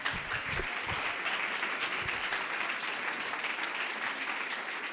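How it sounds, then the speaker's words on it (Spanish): An audience at a PechaKucha Night science talk event in Salamanca applauds steadily, a dense, sustained wash of clapping that fills the room at even loudness throughout. "¡Un fuerte aplauso!"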